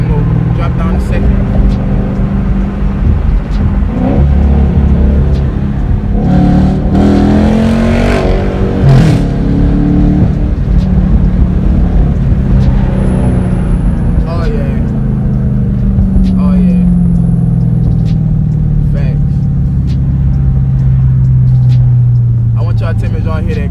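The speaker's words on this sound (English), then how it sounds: "I want y'all to tell me if y'all hear a difference in my exhaust sound from before I put the tips on to now." A 2016 Dodge Charger RT+ with a straight-piped exhaust and quad tips rumbles and accelerates steadily from inside the car, its loud engine drone rising through gears while someone talks over it.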